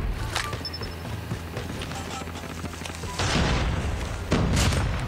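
A bomb explodes in a shooter video game, a loud broadband blast over steady gameplay noise and gunfire, followed by a second heavy burst moments later.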